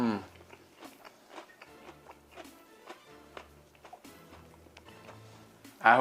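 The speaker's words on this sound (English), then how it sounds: "I hope you heard that crunch." Biting into a crispy fried chicken sandwich, a series of sharp, close crunches and chewing sounds spaced irregularly in a quiet room, ending in a louder burst.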